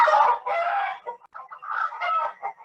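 A hen clucks in a backyard flock, loud and close, with a run of drawn-out squawking calls followed by shorter broken clucks.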